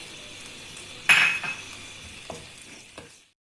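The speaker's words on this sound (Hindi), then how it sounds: "अब हम चिकन को इतना फ्राई करेंगे कि इसका कलर चेंज हो जाए।" A metal spoon clinks against a pan as chicken fries with turmeric and salt for chicken karahi, one sharp clatter followed by a few softer scrapes over a faint sizzle before it goes quiet.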